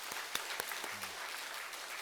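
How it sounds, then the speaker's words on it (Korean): Faint applause from a church congregation during a 100th-anniversary dedication service at a Methodist church, with a few sharp, distinct claps standing out over a soft, steady patter. "우리 주님께 영광의 박수 한번 다시 한번 드리겠습니다"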